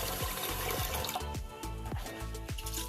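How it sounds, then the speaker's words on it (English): Water runs and splashes into a bowl of rice being rinsed, a continuous close liquid rush broken by repeated gurgling swirls and sloshes. "And so what we're doing in this step is rinsing the rice."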